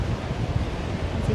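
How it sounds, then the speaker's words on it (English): Strong seashore wind buffets the microphone in a low, steady roar, with a faint wash of surf or rustling beneath it. "It's a windy day."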